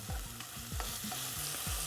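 Onions fry in a pan for Hutsul-style bograch, a constant loud sizzle under rhythmic scraping strokes of stirring.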